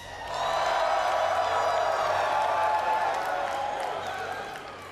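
Arena audience at a League of Legends esports invitational cheering for Team Riot: a loud, sustained roar of voices, whoops and clapping that swells in quickly and holds for several seconds before slowly easing off.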